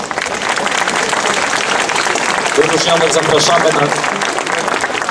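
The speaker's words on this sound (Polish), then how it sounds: "Jeszcze raz gorące brawa." Concert audience applauding, dense sustained clapping throughout while someone speaks over it through a PA.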